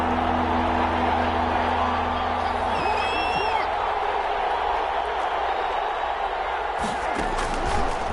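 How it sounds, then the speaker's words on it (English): Stadium crowd noise from a PS4 football game swells in a continuous loud roar as a big third down approaches, with faint whistles and a brief burst of cheering near the end. "the crowd getting into it as we come up on a big 3rd down"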